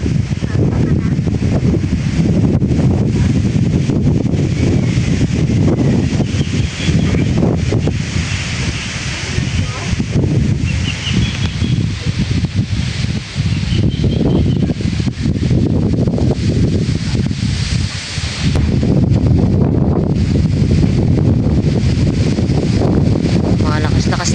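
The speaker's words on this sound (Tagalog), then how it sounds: "Malakas na yung hangin" Strong wind roars and buffets the microphone without a break, with gusty rustling swelling and easing over the steady rush.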